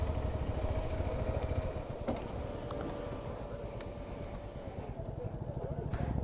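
A motorcycle engine idles and putters at low volume while the bike is parked near the beach at Digha Mohana, with a steady low chugging and a few clatters.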